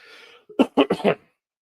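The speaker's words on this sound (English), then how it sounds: "It's a productive cough" A short burst of four wet, hacking, productive coughs in quick succession, close and loud, after a soft breath.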